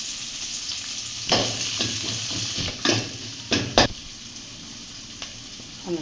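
Chopped onion and green chilli sizzle steadily in hot oil for a prawn dish, a continuous close frying hiss broken by several louder scrapes and clatters of a spatula stirring in the pan, with nobody speaking.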